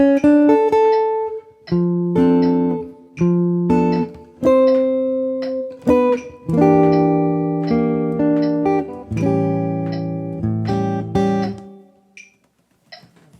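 Solo chord melody guitar playing an arrangement of a song: plucked chords and melody notes in a steady phrase, ringing and sustaining between attacks, close and clear with no talking.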